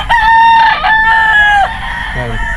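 A rooster crows loud and close at a poultry breeding farm, two long sustained calls in a row followed by a short cluck from the chickens, with no talk over it.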